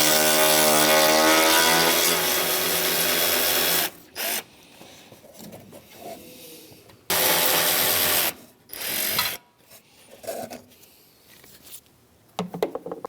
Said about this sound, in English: And with a 10mm socket, go ahead and remove these 2 bolts.